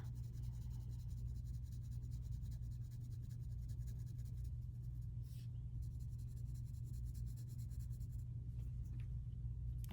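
Pencil shading on paper while drawing a hand, a soft continuous scratching close up over a low steady hum, with a faint whisper at times.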